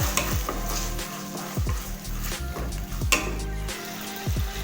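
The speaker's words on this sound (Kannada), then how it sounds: "ಟೊಮೊಟೊ ತಗೊಂಡು ಚಿಕ್ಕದಾಗಿ ಕಟ್ ಮಾಡಿ ಅದನ್ನು ಕೂಡ ಎಣ್ಣೆಗೆ ಹಾಕೊಳ್ಳೋಣ" Chopped tomatoes frying in oil in a pan for a dill-leaf masoppu, with a steady close sizzle and repeated scraping stirs of a spoon against the pan.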